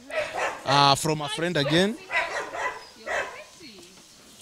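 An eight-month-old Rottweiler puppy barks in short bursts at a Rottweiler park in Kenya, mixed in with close conversation.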